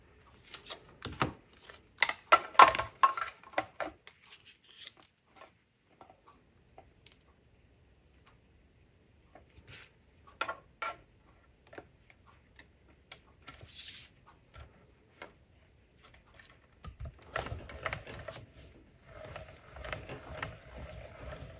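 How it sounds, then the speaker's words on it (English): A small hand-cranked mini cut and emboss machine rolls a stitched rectangle die through card stock, giving quiet, close ticking and clicking gear sounds in irregular bursts with pauses. "So I have the little mini cut and emboss machine."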